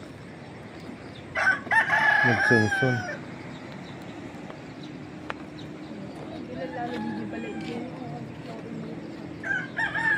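A rooster crows out of doors in a rural riverside area after a typhoon, a clear crow rising and fading mid-distance while people talk nearby and outdoor background noise runs underneath.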